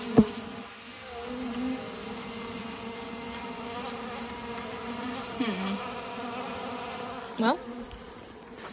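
Honey bees buzz steadily inside an indoor beehive, a dense continuous drone at close range, with a few brief louder swells as individual bees pass near; a voice speaks one brief word.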